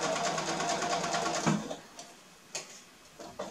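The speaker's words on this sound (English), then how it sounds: "I'm going to be stitching just outside the stay stitching line, starting with a lock stitch." A sewing machine runs a steady, rapid stitching rhythm along the seam of a quilted Christmas stocking, then stops, leaving a few soft ticks and clicks of fabric handling close by.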